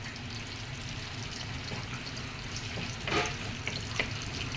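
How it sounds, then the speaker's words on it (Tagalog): Unpeeled garlic frying in oil, a steady dense sizzle throughout with a few brief louder stirring scrapes near the end, close and continuous. "Papula-pulahin lang natin ng kaunti ang ating bawang"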